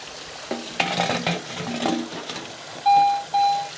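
A Garrett AT Pro metal detector swung over a copper plate gives two short, clear electronic tones near the end, following soft rustling and scraping handling noises up close.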